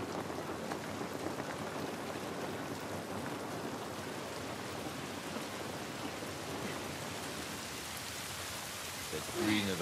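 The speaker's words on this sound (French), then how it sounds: "Cette pluie ne va pas nous aider." Steady rainfall in the video game The Last of Us Part I, a soft, even wash of drops on surfaces that holds throughout at low level, with a brief louder rustle at the end.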